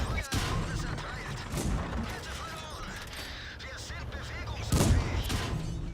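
World of Tanks tank combat plays out with mechanical clanks and creaks, a heavy cannon blast near the start and another louder boom near the end, all under a voice talking.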